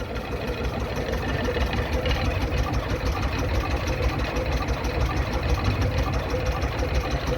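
A 52-foot tug-style narrowboat engine idles low and steady, a constant chugging rumble close by with no change in revs.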